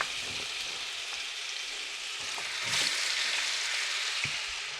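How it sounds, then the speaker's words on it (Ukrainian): Vegetables for red borscht dressing sizzle and crackle steadily in a hot pan, a bright continuous hiss with occasional soft clicks, close and alone. "Перемішую і йдемо смажити."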